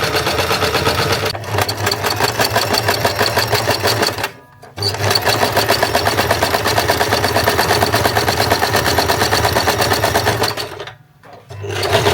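Sewing machine stitching along stretched swimsuit fabric, a loud steady rapid needle clatter running continuously with two brief pauses, close and alone.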